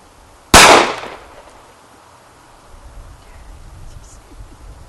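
A single sharp, loud Sig Sauer P938 pistol shot cracks out near the start and decays quickly, followed by quieter background rustle and faint talk.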